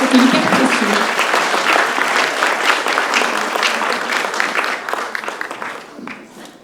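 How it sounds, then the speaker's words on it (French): Audience at a musical evening for Ukraine bursts into loud, dense applause that holds steady for several seconds and then thins and fades toward the end. "il faut vraiment les applaudir"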